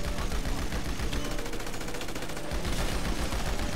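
Sustained machine gun fire in GTA Online, a loud, rapid unbroken stream of shots with a brief dip in intensity midway before it surges again.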